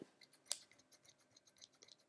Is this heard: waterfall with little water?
no